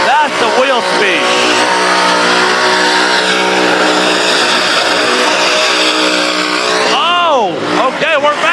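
A car doing a burnout at Stafford Speedway during a burnout competition, its engine screaming at high, sustained revs with tires spinning, loud and close, with brief pitch dips and revs near the end.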